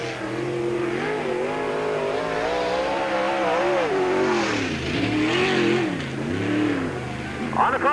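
Race car lapping Peoria Speedway during qualifying at the 1997 Busch 100, the engine rising and falling in pitch as it revs through the turns and down the straights, loud and continuous.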